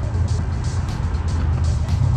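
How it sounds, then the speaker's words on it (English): A restored muscle car with a 426 engine rumbles by up close, a steady low engine drone filling the moment with no break. "There goes my dad's car."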